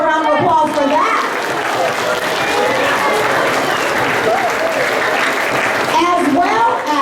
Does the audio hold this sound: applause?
yes